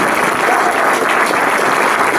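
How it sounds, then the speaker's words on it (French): A room full of people applauds an association's departing founding president at its 30th-anniversary gathering, giving dense, steady clapping that stays loud and even for a couple of seconds. "Vous pouvez l'applaudir, il a apporté beaucoup à l'association."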